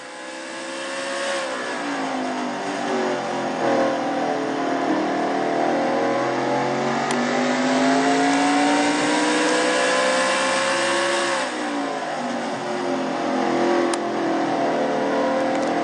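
A race truck engine in the Traxxas Truck Series at Martinsville screams at high revs on track for the whole stretch, loud and sustained with rising and falling pitch and no voices.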